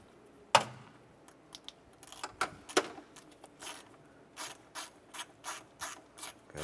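A hand ratchet clicks in short bursts while a bracket bolt is tightened on a 2008-2012 Honda Accord during a starter replacement, with quick close-up clicks and a few louder knocks and no talking.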